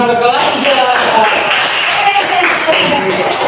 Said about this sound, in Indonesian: kita beri tepuk tangan ke kelas 3